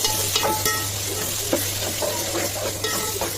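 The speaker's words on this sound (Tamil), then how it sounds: "நல்லா சேர்த்து நல்லா வதக்கி விட்டுட்டு கொஞ்சம் மூடி போட்டுக்கிட்டிங்கன்னா நல்லா வந்து வதங்கிடும்" Onions, chilli and curry leaves sautéing in a pan for a sea murrel fish curry, a dense close sizzle with quick spatula scrapes and light metallic taps, no voices.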